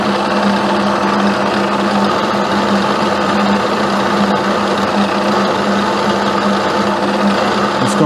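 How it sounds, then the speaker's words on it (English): A 13/16 end mill cuts a wheel hub on a milling machine, giving a steady, loud mechanical whine with a constant hum, running unbroken and alone for the whole stretch. "I think I mentioned it's a 13/16 end mill."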